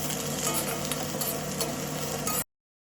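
Steady, dense sizzling of mushrooms sautéing in a hot pan, close and even, with no voices, ending abruptly.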